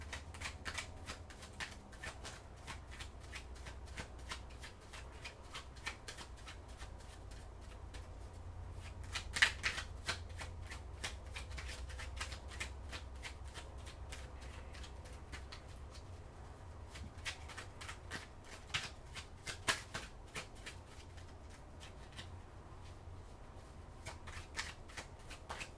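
Oracle cards being shuffled by hand, a long run of soft, rapid riffling and flicking card sounds that continues steadily for the whole stretch, close and quiet with no talking.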